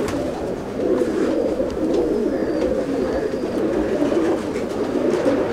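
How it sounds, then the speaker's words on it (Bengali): Chennai breed pigeons coo in a loft in Andul, Howrah, a steady, low throaty murmur of several birds overlapping continuously at close range. "এটা চেন্নাই বিটেরই পায়রা পুরো"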